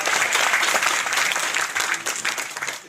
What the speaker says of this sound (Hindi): एक बार हरेश भाई के लिए दिल खोल के जोरदार तालियां।